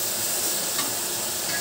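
Fish tinola soup being stirred in a pot, a steady soft bubbling and scraping swish that runs the whole short moment without pause, close by and moderately loud, with no voices.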